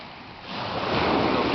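Sea waves at Karasu beach surge and build into a broad, rushing wash of surf, growing louder over the short stretch, with no talk.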